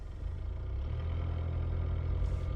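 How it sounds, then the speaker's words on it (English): A Mitsubishi Pajero engine idles and pulls away after its parking brake is released, a steady low rumble close up with no talking. "let's go for a drive and see how we go"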